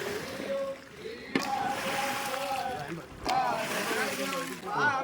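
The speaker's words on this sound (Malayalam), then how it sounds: "പമ്പയാറിലൂടെ ശരിക്കു പറഞ്ഞാൽ ഈ ഒഴുക്കിനെതിരെയാണ് ഇപ്പോൾ ഈ വള്ളം നീങ്ങുന്നത്." Palliyodam snake boat travelling upstream on the Pamba river, water sloshing and lapping beneath someone talking, with a crowd in the background.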